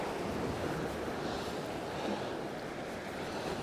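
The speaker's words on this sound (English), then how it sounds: "I've put my brolly up, just to break the wind off a little bit." Wind blows across a beach at sunrise where an angler has put up an umbrella, making a steady, loud broadband rush mixed with surf and microphone buffeting that lasts the whole time, with no talking.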